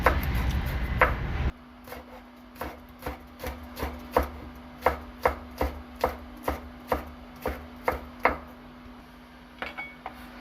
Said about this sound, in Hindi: सब्ज़ मिर्ची लेंगे और बारीक बारीक काट के ये भी इसमें शामिल कर लेंगे।